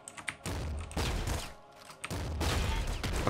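Flak cannon fire in the top-down shooter Nuclear Throne: three loud bursts of blasting gunfire, each a dense explosive crackle lasting about a second, separated by brief gaps.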